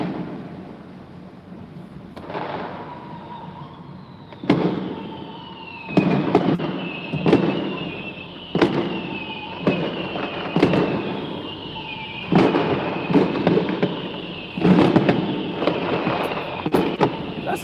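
Fireworks go off near the St. Paul Saints stadium in a series of sharp booms and crackling bursts every second or two. Each bang rolls off into a low echo, and a faint siren-like whine runs beneath them.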